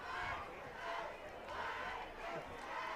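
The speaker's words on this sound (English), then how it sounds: "a lot of elementary cheer there" Elementary school kids cheering in the stands at a high school football game, Troy versus Irvine, a steady crowd roar rising and falling in waves over three seconds with shouting voices mixed in.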